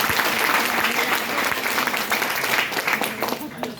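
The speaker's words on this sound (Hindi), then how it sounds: "ताली जोरदार बजाई" A large seated audience at a talk applauds loudly and continuously, a dense close wash of clapping with voices faintly mixed in.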